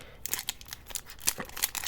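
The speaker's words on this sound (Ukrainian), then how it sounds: "Тепер давайте у цей пакет відкриємо." A plastic package being opened up close, with a quick series of crisp crinkling rustles and snaps in uneven bursts and no voices.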